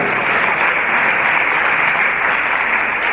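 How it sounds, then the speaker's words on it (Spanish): A film club audience at a discussion session applauds Jade with a loud, constant, even wash of clapping and no distinct individual claps. It sounds heavily muffled, as if transmitted through a narrow-band connection. "Fuerte aplauso"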